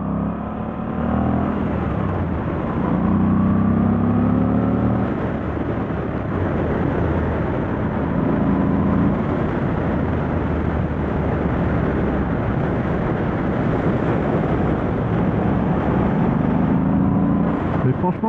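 A motorcycle ridden on a damp road, its engine a steady droning hum with slow rises and falls in pitch, close and constant, with wind rush and a rider talking over it at times.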